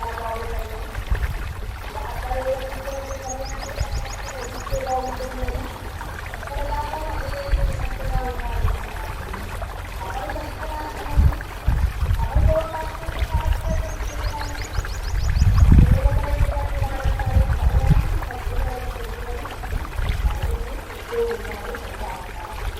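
Water flows and trickles at the Mukkoti temple, a continuous low gurgling stream with some louder splashy surges partway through and a few faint tonal sounds above it.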